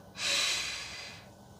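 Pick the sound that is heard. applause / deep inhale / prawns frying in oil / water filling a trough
deep inhale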